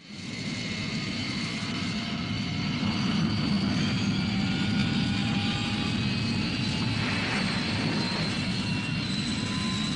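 A Thunderbird 2 aircraft model from the Thunderbirds TV show gives off a loud, continuous engine roar with a steady whine, holding constant and close throughout.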